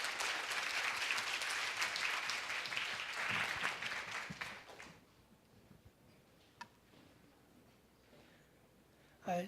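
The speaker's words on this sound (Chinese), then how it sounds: "请各位嘉宾用掌声欢迎他" An audience at an evening lecture event claps to welcome a speaker, a dense burst of applause that fades away after about five seconds, leaving a quiet room with a few faint knocks and a short voice at the end.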